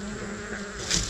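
Bees or wasps swarming around a nest as it is being collected, a steady close, loud droning buzz filling the whole moment and swelling slightly at the end.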